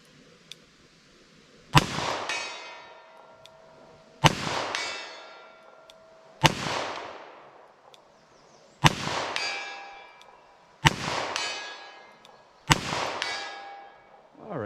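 Six loud Magtech .38 Special cowboy action rounds fired at a steel target, each a sharp crack with a bright metallic ring from the struck steel, spaced about two seconds apart outdoors.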